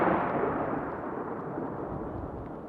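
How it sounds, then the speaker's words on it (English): Thunder rumbles through a heavy thundersnow storm in Worcester, with snow falling at over 4 inches an hour and 13 inches already on the ground. It is one long, low, rolling roar that slowly fades. "We just had a lightning strike and thunder here in Worcester."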